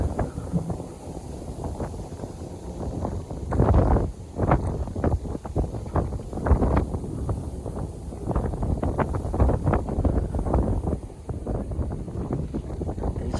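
Cold wind gusts steadily across a riverside village in southern Bangladesh, buffeting the microphone with rumbling bursts and rustle over a continuous outdoor roar.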